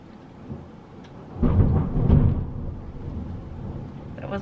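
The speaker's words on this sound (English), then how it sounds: "Loud thunder." Loud thunder during a London storm: a deep rumbling crack swells and rolls for a couple of seconds, then fades into a lingering low rumble with rain in the background.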